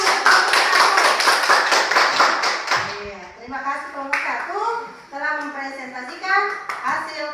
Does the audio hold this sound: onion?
no